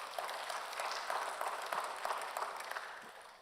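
Church congregation applauding after a sermon hymn, a soft continuous patter of many hands clapping at a distance for a few seconds.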